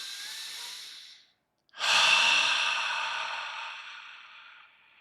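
Slow, deep breathing during a meditation session: one long exhale, a brief pause, then a fuller inhale-exhale that fades gradually, close and soft with no talking.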